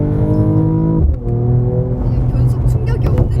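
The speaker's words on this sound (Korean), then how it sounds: "이게 우리 지금 차차가 이야기했던 것처럼 액티브 사운드가 들어가 있어요" A Mercedes-AMG CLS53 engine with active sound gives a steady, loud interior drone. Its pitch drops sharply around a gear change, then settles and holds. Voices talk over it.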